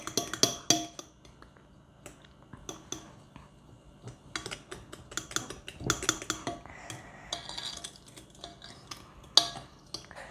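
Butter and vanilla being stirred together in a bowl for cookie dough, irregular close scraping and clinking of a utensil against the bowl, fairly faint, with no talk.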